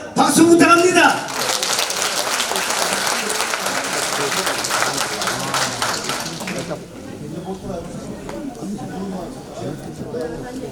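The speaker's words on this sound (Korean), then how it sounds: "우리 청주시 노인회 회장님을 위해서 박수 부탁합니다." Applause from the crowd at a Korean patriotic rally for the Cheongju senior citizens' association chairman, with people also talking; the applause is loud and dense at first, then tapers to scattered claps and murmuring.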